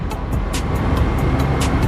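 A mechanic rides a Yamaha RX100 motorcycle hard and fast on the road, its engine droning steadily and close throughout, with short hissing bursts recurring every fraction of a second, and no talk.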